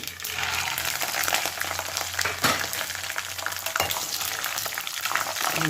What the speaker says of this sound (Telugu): ఇప్పుడు పల్లీలు వేస్తున్నానండి